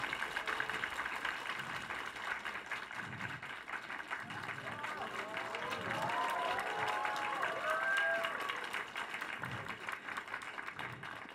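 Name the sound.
audience applause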